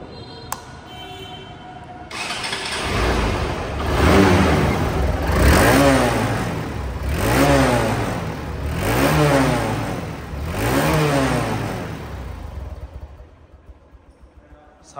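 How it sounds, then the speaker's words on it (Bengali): A second-hand ABS double-disc motorcycle idles and then revs repeatedly, rising and falling in five or six strong swells, loud and close, before settling back to a quieter idle. "বাইকটি সাউন্ড কোয়ালিটি শোনাবো এখন।"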